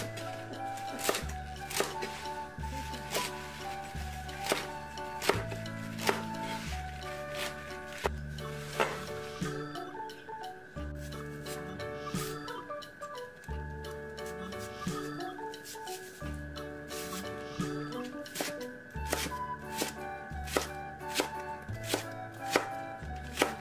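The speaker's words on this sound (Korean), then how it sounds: "대파는 흰 부분만 사용하여 역시 양념소에 겉돌지 않도록 십자로 칼집을 준 후 쫑쫑 썰어서 준비합니다" A knife chops green onion whites on a cutting board for kimchi seasoning, making rapid, regular, close-up taps in quick bursts, while music plays in the background throughout.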